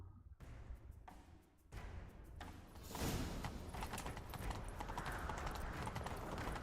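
Hooves clatter in quick rhythmic clip-clops that build into a steady galloping beat, with faint thuds and no speech, from a horse in the video game The Witcher 3.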